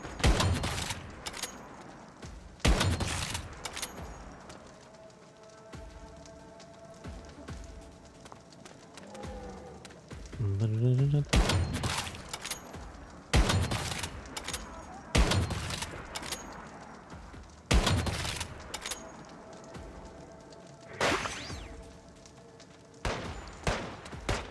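Gunfire rings out in the video game Once Human in repeated sharp bursts and single loud shots spaced across the stretch, with quieter rumbling gaps and a brief warbling tone between volleys.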